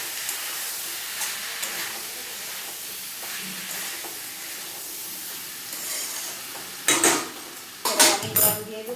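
A spoon stirs drumstick and potato curry in a hot pan, a soft sizzle running underneath, then a few sharp scraping strokes near the end.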